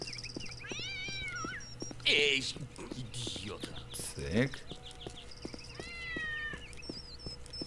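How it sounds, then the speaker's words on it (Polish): Several cats meow in the game Postal 2, with two wavering cries at the start and two more near the end, set apart by sharp game sounds and clicks, while someone says a few brief words. "Pełno kotów."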